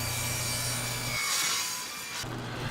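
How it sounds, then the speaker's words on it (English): A hand saw cross-cuts a wooden board to size, its strokes rasping steadily back and forth close up before the cut briefly changes pitch and resumes, with no speech. "the next step is to cross cut it to size"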